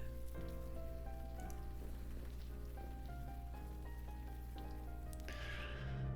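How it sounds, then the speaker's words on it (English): Steady rain falls in the video game The Blackwell Epiphany, a soft continuous patter underneath sustained game music throughout. "Stupid rain."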